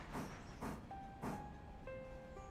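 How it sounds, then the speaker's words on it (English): A passenger train pulls in, heard as three rhythmic bursts of rushing rail noise followed by steady sustained tones like a horn or squealing brakes, fairly loud and close with no talking. "Oh, here comes the passenger train."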